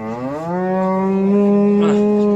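A cow at a livestock and dairy-cattle market lets out one long, loud, close moo that holds steady with a rich harmonic tone for over two seconds, with no talk in the clip.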